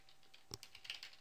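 Typing on a computer keyboard: a short burst of light, close key clicks at an uneven rhythm, quiet and alone.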